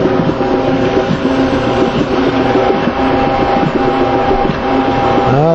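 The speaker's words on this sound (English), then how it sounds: "going to pump it until we get a little bit of mud out to the hose" A cement pump runs steadily, pushing mud through a hose. It makes a loud, continuous mechanical drone with tonal hum and rumble, and no talking.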